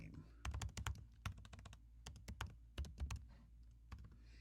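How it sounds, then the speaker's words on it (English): Quick bursts of typing on a computer keyboard, clusters of sharp key clicks separated by short pauses, close and fairly quiet with a faint voice in the background. "sometimes it's just faster just to type things in"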